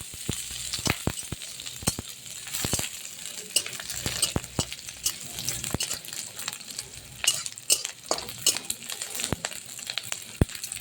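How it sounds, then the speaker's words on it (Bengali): Chopped onions sizzle in a frying pan with panch phoron, while a utensil stirs and scrapes them in steady, irregular strokes for a red-brown fry ahead of masoor dal; the sound is close and continuous, with no voices. "এটাকে একটু নেড়ে চেড়ে একটু পেঁয়াজটাকে লাল লাল করবো।"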